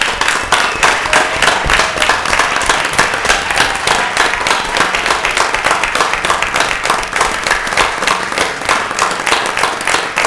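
Loud, sustained applause from a crowd at a school board meeting, a dense, steady wash of many hands clapping for school administrators that carries on without a pause.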